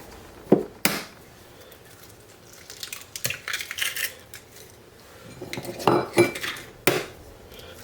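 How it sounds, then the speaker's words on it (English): Four eggs cracked into a well of all-purpose flour in a mixing bowl: sharp shell taps and clinks against the bowl, scattered irregularly among softer rustling and handling noises, close and fairly loud. "we're going to crack in 4 eggs"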